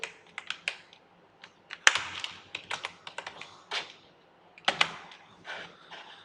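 Keys clack on a computer keyboard in irregular bursts of typing, close and crisp, with short pauses between clusters and no talk.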